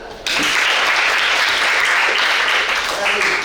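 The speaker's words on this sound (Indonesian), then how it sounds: "Ya, stop, tepuk tangan." A classroom of students bursts into applause on cue from their teacher, a loud, dense wash of clapping that starts abruptly and holds steady, with faint voices mixed in.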